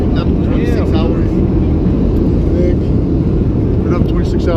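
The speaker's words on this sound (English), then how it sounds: "Here's the plane." Steady, loud airliner cabin drone on a night flight to Saigon, a broad continuous roar filling the whole clip with faint voices murmuring underneath.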